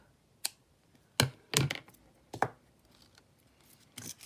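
Scissors snipping sewing thread while preparing junk journal signatures, giving a few sharp, close, isolated cuts spaced irregularly in a quiet room.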